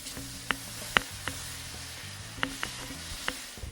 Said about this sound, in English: we're just going to add a little bit in at a time, and we're just going to stir through as we add it in